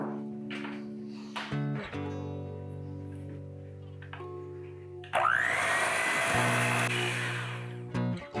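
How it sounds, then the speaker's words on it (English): Powdered sugar being mixed into cream cheese with an electric mixer, a steady motor whine that steps through speeds, then surges louder and rougher midway before settling again. "we're going to mix this powdered sugar with our cream cheese"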